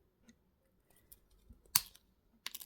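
Small jewellery wire ends are snipped with cutters at the back of a wire-woven pendant: a few faint, sharp clicks, with one louder snap and a final pair of crisp cuts close by in otherwise quiet surroundings.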